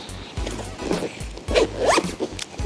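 A camera bag's zipper is pulled in several quick, scratchy runs, close and fairly loud, with brief pauses between strokes.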